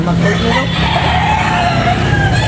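A Boston Roundhead rooster crows loudly and steadily at a busy gamecock market, set against a dense background of crowd chatter and other birds.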